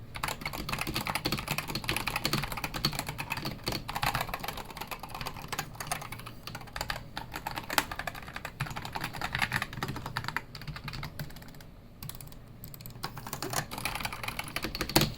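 Typing on a Corsair K100 RGB optical-mechanical gaming keyboard, with dense, steady keystrokes clattering continuously and close up, one brief lull partway through.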